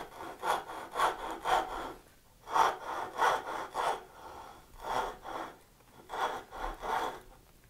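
A hand saw cuts down a dovetail shoulder in wood for a half-blind dovetail joint, with several bursts of steady back-and-forth rasping strokes separated by short pauses, close and clear with no talking.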